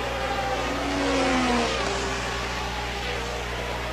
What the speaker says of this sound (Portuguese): Tá um barulho estranho no carro do Arnoux